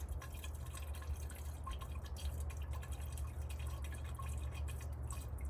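Engine coolant glugging and trickling as it is poured into a 2007–2013 vehicle's coolant tank without a funnel during a thermostat replacement, a steady close liquid splashing and dripping over a low background rumble.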